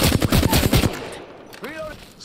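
Rapid automatic gunfire from a weapon in the video game Apex Legends, a loud burst of evenly spaced shots for about a second, then fading as faint electronic chirps follow.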